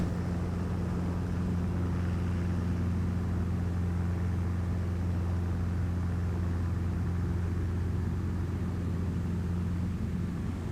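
A helicopter engine on the taxiway steadily throttles up for takeoff, a loud, continuous low droning hum with strong steady tones that holds evenly throughout.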